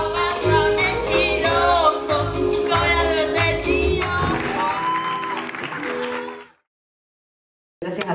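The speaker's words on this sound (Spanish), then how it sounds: "un fuerte aplauso para Milagros" An audience in a theatre claps for a solo singer at a Juegos Bonaerenses competition: dense, loud applause blends with the last of the sung music, then cuts to silence before a brief burst returns at the end.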